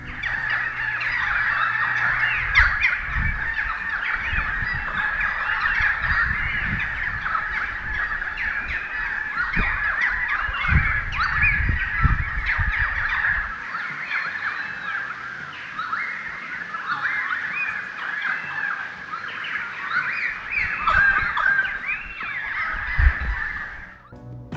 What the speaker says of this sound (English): Just listen to these birds sing.